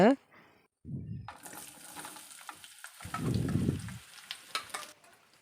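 Raw mango and dried chillies sautéing in hot oil for a sweet mango pachadi, a steady close sizzle and frying crackle with brief stirring scrapes, starting after a short pause and carrying on to the end.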